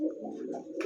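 A pair of domestic pigeons cooing, a single brief low throaty coo, close and soft.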